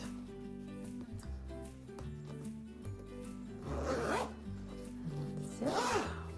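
Zipper on a sewn fabric scripture case, drawn in two quick pulls near the end after soft handling and rustling, close and fairly quiet.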